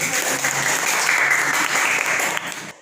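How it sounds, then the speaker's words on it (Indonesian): Schoolchildren in a classroom applaud together at the end of a lesson, a brief, dense burst of clapping lasting under three seconds that then stops. "Tepuk tangan dulu."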